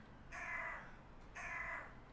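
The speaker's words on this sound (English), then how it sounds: "lovely being outdoors, you get lovely bird sounds all the time" Crows cawing outdoors near a home gym, two harsh drawn-out caws about a second apart, moderately distant over a quiet background.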